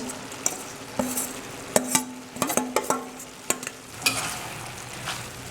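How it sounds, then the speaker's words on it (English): Soya chunks tipped into a pan of frying curry and stirred, with a steady sizzle broken by several sharp spoon knocks and scrapes against the pot, close and fairly quiet. "what I'm going to do now is add in my soya chunks"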